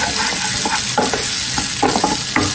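Green chillies sizzling in hot oil in a pan for rava kichadi, a steady close frying hiss broken by repeated stirring scrapes, with no one talking.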